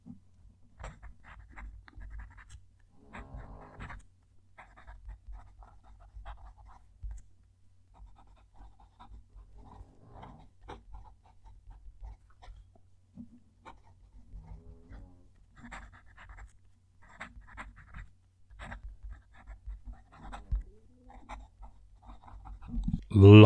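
Fountain pen nib writing a sentence on paper with a close microphone, faint scratchy strokes in short bursts with pauses between words, very quiet and intimate, with a louder rustle at the very end.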